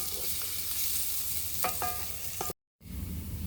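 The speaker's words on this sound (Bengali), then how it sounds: "পেঁয়াজগুলো লাল করে বেজে নিতে হবে" Onions frying in a pan give a continuous close sizzle, with a few metallic stirring clinks near the end and a brief dropout before the sizzle resumes.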